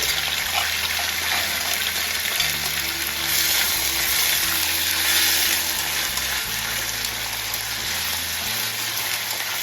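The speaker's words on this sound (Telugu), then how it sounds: "ఇది ఇంకా గోల్డెన్ బ్రౌన్ వచ్చే వరకు వేయించుకోవాలండి" Chopped onions frying in a pan, a dense, loud hiss of sizzling oil running without pause, with a low hum underneath and no voices.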